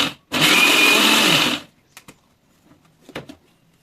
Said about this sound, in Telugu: కొద్దిగా బరగ్గా పల్స్ మోడ్లో అయితే మిక్సీ పట్టుకోవాలి